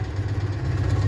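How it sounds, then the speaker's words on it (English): A 1973 Citroen 2CV's small engine runs close by with a low, throbbing, slightly uneven putter, steady and fairly loud for about a second with no talking. "listening to the engine itself."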